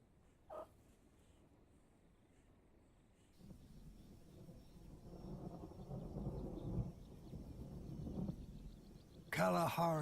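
A colossal thunderstorm over the Kalahari: deep, rolling thunder builds from faint to loud and rumbles on for several seconds before fading. A voice speaks briefly at the end.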